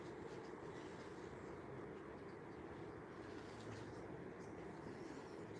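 A locomotive passes at Acton Bridge, a faint, distant, steady rumble that holds evenly throughout with no distinct horn or clatter.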